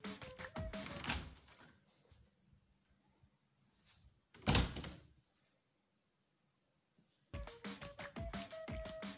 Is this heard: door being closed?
yes